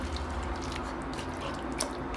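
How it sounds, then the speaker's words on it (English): A little water poured into a pot of chopped tomatoes, faint soft trickling and dripping with a low background hum, no talking. "I'll add a little bit of water"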